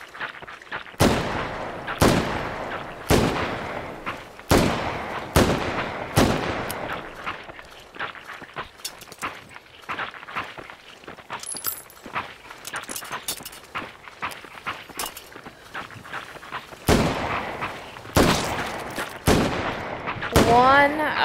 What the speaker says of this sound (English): Oh, I said Deagle 44, but this is 44. Magnum.